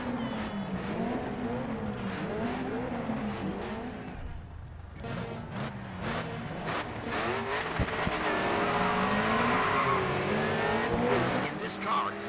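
A muscle car in the GRID 2 racing game roars continuously with revving engine and sliding tire skids, sustained and loud throughout, with other race cars around it.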